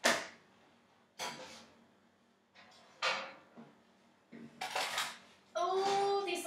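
A hot metal brownie pan is handled out of the oven, with several separate sharp clanks and scrapes of metal close by and quiet pauses between them, ending in a longer rattling clatter.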